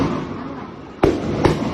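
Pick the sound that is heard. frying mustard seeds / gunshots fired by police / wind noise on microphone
gunshots fired by police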